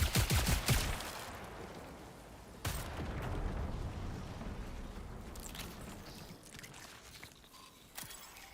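Gunfire in the sci-fi shooter Marathon aimed at alien hives, opening with a loud rapid burst, then sporadic sharp shots and impacts fading into softer background rumble.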